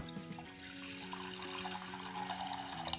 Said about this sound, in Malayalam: അതിനായിട്ടൊരു പാനിലേക്ക് 2 കപ്പ് വെള്ളം ഒഴിക്കുക.